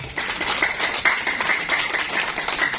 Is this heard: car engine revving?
no